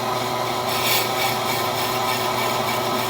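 Brake lathe blades skimming a warped brake rotor, blades set barely touching, giving a steady rasping, rubbing scrape with a faint rhythmic pulse as the rotor turns, continuous and close with no talk.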